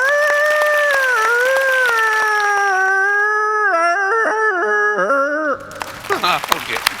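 A person imitates a jackal howling, holding a long, loud, wavering howl for about five seconds that bends and falls near the end, followed by a brief burst of noisy sound.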